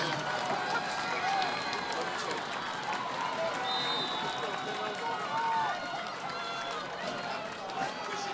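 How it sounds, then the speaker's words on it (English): A high school football crowd roars steadily from the East Islip stands in front during a tense goal-line moment late in a game against Huntington, with broad continuous cheering and shouting throughout. "East Islip crowd in front of us getting loud."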